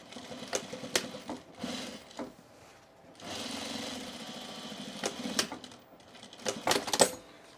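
Sewing machine stitching a bar tack on overalls: short loud bursts of rapid mechanical stitching broken by pauses, one longer run in the middle, close up with no talking.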